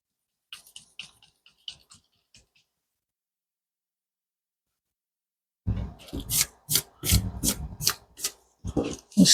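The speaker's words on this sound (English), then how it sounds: "erase this line, erase this old line" A pencil eraser rubs an old line off paper pattern sheets, first in light faint scratches, then after a pause in a run of louder, rapid back-and-forth strokes close by.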